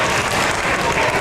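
Brief, dense audience clapping for school staff at an African-American History event at a school, loud and close, with no gaps.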